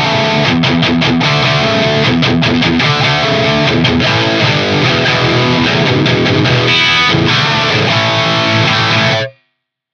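Distorted electric guitar played through an amp modeler with all effects off, giving a dry core amp tone; dense, loud playing continues for about nine seconds, then cuts off abruptly.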